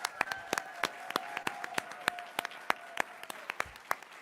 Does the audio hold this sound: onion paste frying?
no